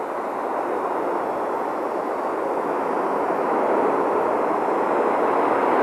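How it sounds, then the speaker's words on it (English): Space Shuttle Atlantis rocket liftoff: a dense, continuous broadband roar with heavy rumble, building slightly in loudness, distant and unbroken with no voices. "Liftoff of Space Shuttle Atlantis, opening a new chapter in the completion of the International Space Station"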